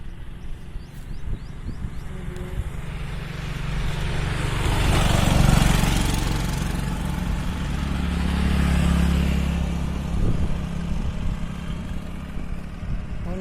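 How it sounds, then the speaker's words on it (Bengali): A vehicle engine rises and passes on an old bridge over the rain-swollen Manu river, swelling to a near peak midway and then fading, before a second, softer pass follows. No voices are heard. "এই দেখুন গাড়ি আসছে।"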